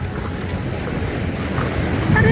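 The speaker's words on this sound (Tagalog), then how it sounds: "Aray ko, hinampas-hampas ako ng alon mga kadeshi." Sea waves crash and wash up at a beach resort in Tanza, Cavite, as a close, loud, rushing surge with wind buffeting the microphone.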